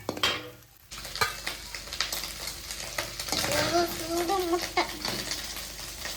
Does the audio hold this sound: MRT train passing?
no